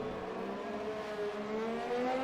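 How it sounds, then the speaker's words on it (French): Ferrari Formula 1 single-seater in a racing video game at Abu Dhabi, a steady high-pitched engine whine holding near flat speed with a slight rising pitch, continuous and moderately loud, no voices over it. "la Ferrari de Maldini qui vient de passer les 300 km/h"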